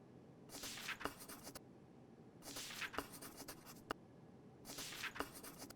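Pen scratching out notes in a point-and-click mystery horror game, three separate bursts of quick scribbling strokes spaced a couple of seconds apart, close and fairly quiet over a faint background.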